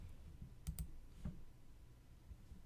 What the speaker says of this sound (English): you probably heard the mouse clicking and all that